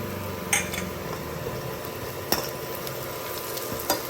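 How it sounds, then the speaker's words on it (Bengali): Onion and garlic frying lightly in a pan, with a steady soft sizzle and occasional sharp clicks of a utensil stirring against the metal, close and unaccompanied by voices. "এখানে পেঁয়াজ আর রসুনটা একটু আমি হালকা ফ্রাই করে নেব"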